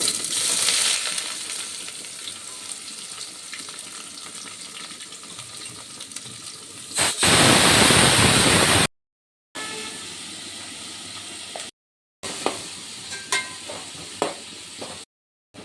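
Onions and curry leaves sautéing in peanut oil for goat intestine gravy, a loud close sizzle with a sudden hissing surge midway, broken by brief silent gaps and a few clattering knocks.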